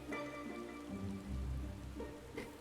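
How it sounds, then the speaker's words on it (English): Heavy rainfall in the game Final Fantasy XIV, a soft, steady patter of rain on surfaces with a faint low rumble underneath, fairly quiet and continuous without voices. "Tancred is looking particularly chipper, despite the heavy rainfall."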